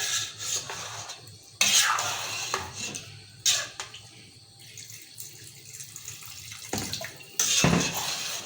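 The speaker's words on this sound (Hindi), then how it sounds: "अब मैं इसमें पानी डालूंगी इतना जैसे हमारे आलू गल जाए" Water poured into a pot of browned aloo gosht curry, with splashing and running water across the clip, several louder bursts and clatters of a utensil against the pot, near and fairly loud with no talking.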